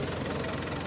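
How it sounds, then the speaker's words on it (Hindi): A 75 HP model 640 tractor with a sesame planter attached idles in Pakistan, giving a dense, continuous low engine drone with no break or voices. "ये स्टार्ट खड़ा है और ये प्लंडर पे, तिल्ली प्लंडर पे ये निकाल रहा है, और इसकी आवाज़ आप चेक कर सकते हैं"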